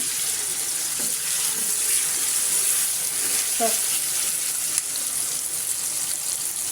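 Food frying in a home kitchen pan gives a steady, loud sizzle with a broad hiss that holds throughout, with a couple of faint knocks and a brief tap partway through.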